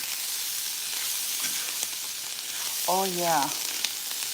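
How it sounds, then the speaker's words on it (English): Mushrooms and onions fry in a pan with a steady, close sizzle, and a stir runs through them; a voice briefly speaks over the frying. "Give this a stir."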